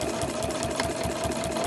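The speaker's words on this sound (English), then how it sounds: "So I'm just sewing along, sewing through all those layers." A sewing machine stitches steadily through several layers of fabric on an overlocker cover, close and loud, with a fast even needle rhythm and a constant motor whine.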